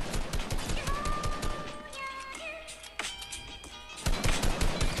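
Rapid gunfire in the battle royale game Fortnite, bursts of close, loud shots crackling over game sounds and tonal effects, with a heavier volley at the end.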